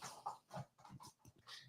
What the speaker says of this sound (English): He has my croc, and he is going wild on it.